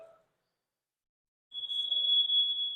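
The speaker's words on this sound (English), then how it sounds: "that smoke detector is getting on my nerves" A smoke detector sounds a sustained high-pitched electronic tone inside a newly built pool home, beginning after a short silence and holding steady at moderate loudness until the end, with faint room noise beneath it.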